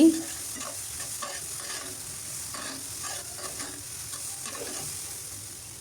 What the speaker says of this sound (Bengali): অনবরত নেড়ে চিলে ডালগুলো ভেজে নিচ্ছি